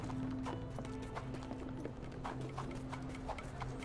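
Hooves of a horse in a video game clip-clop in a steady, rhythmic trot, moderately close and continuous throughout.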